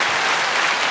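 Applause sound effect fired from a podcast soundboard, a short, dense and loud burst of crowd clapping heard alone with no voices.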